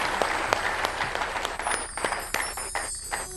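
An audience claps loudly and steadily throughout, a dense wash of applause for a judge at a guru's spiritual festival gathering, with a few sharper individual claps standing out near the front.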